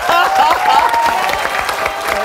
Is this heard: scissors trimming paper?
no